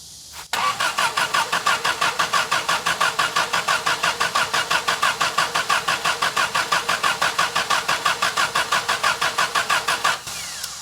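A Willys CJ3B jeep engine cranked with the choke pulled after sitting for months; a loud starter churns in an even, rapid rhythmic chug for about ten seconds without catching, then cuts off abruptly.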